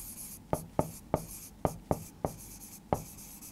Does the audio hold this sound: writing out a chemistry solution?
yes